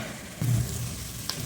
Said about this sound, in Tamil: கொஞ்சம் ஒரு 2 நிமிஷம் எண்ணெயில் ஃப்ரை ஆகட்டும்